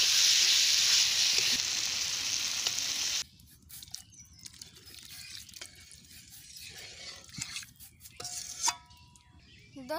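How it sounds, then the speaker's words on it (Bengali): Water is poured into frying spice paste and ground chickpea for a singi fish curry, setting off a loud, hissing sizzle that cuts down after about three seconds to a quieter bubbling simmer with faint stirring. "এবার এখন আমি দিয়ে দেবো ঝোল।"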